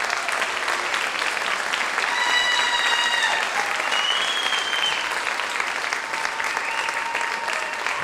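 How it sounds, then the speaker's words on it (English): A theater audience gives sustained, enthusiastic applause for a musical's cast, band and crew, steady dense clapping throughout with a few cheers and whistles mixed in. "give this wonderful cast, band, and crew a round of applause"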